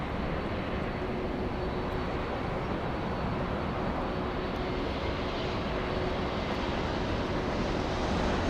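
An Airbus A321 arriving from Toronto at Los Angeles International Airport gives a steady, broad engine roar that holds loud and constant throughout, with no voices.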